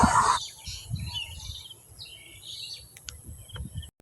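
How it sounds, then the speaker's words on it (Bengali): Birds call faintly from a distance in a quiet village, scattered thin chirps over soft low rustling and footsteps, with one louder burst at the start. "পাখির ডাক, এটা শুনলে বুঝতে পারবেন।"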